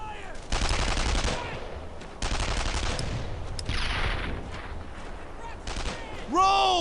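WWII gunfire in Brothers in Arms: Earned in Blood during a tank destroyer escort through St Sauveur, several sustained bursts of machine-gun fire with brief gaps, mixed with shouting voices.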